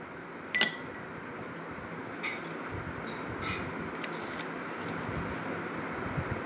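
Ice cubes made from frozen mosambi juice clink against a glass of fruit juice: one sharp, bright clink near the start, then a few faint, scattered taps over a quiet background.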